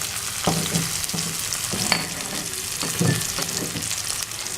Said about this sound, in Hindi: ये कटी हुई प्याज ऊपर डाल दो।